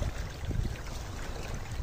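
Sea waves breaking and washing against rocks at a beach resort shore, a steady low rumbling surge with broadband wash, fairly close and continuous, no voices.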